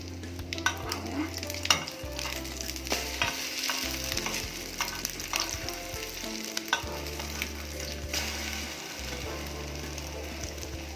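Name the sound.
egg-soaked French toast frying in a pan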